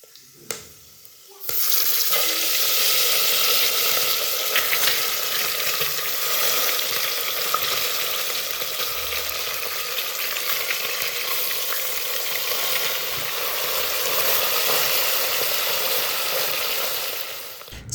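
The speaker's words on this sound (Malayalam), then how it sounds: "റെഡിയാക്കി വെച്ചിട്ടുള്ള ചിക്കൻ പീസ് ഓരോന്നായിട്ട് അതിലേക്ക് ഇട്ട് കൊടുക്കുക." Chicken pieces frying with spices in hot oil inside a pressure cooker, cooked for chicken manthi: a loud, steady sizzle starts suddenly after a quiet moment and hisses on without pause until it fades at the end.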